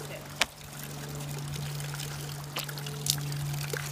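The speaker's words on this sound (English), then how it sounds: "this is the water that comes off of the springs, and then you fill it up" Natural spring water pours steadily from a spring outlet at Saratoga Springs, New York, a continuous close splashing with a low steady hum beneath and a few brief clicks.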